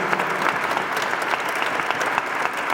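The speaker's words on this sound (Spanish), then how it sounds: "un fuerte aplauso para todos los organismos que nos ayudaron y acompañaron mucho" Steady applause from a university audience at an honorary doctorate ceremony, a dense, continuous patter of many hands clapping at constant loudness with no voices over it.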